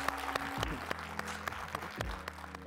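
An audience claps together at a live talk, the sharp hand claps merging into steady applause that holds for a few seconds, fairly close and with no one speaking over it.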